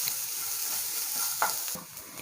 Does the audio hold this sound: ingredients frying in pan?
yes